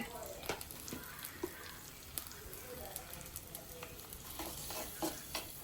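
Small shallots sizzle steadily in hot coconut oil while a spoon stirs them, a soft continuous crackle with faint clicks throughout and quiet, distant-sounding levels.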